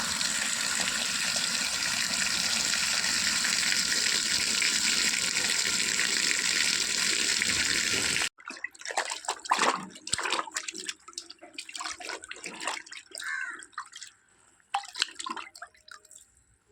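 Soapy water runs steadily into a tub where a curtain is left to soak, a loud continuous rush that stops abruptly halfway, followed by scattered drips and small splashes.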